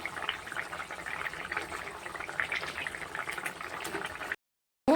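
Hot water poured into a simmering broth of jeol fish bubbles and burbles steadily at close range, then cuts off abruptly just before the end.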